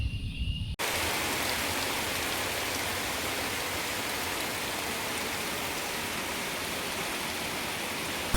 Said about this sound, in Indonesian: Pagi itu, hujan turun cukup deras.